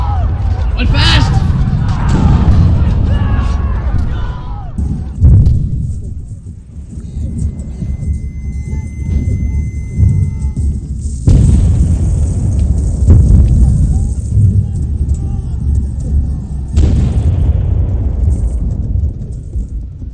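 A pirate ship battle in a drama: deep rumbling cannon blasts and explosions crash through the ship's hull in loud, sustained bursts with several sharp onsets, mixed with shouting voices.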